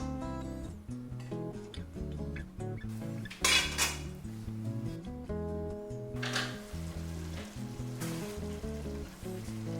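A lid clanks onto a cooking pot of squid luau stew amid several metallic knocks and clinks of cookware, with a steady hum underneath and no talking.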